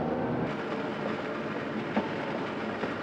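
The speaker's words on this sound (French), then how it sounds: "Les wagons colorés et brillants du tramway sont un excellent moyen de découvrir Lisbonne" A Lisbon electric tram rolls along its rails through the city, a steady close rumble with soft clicks from the wheels and no voices.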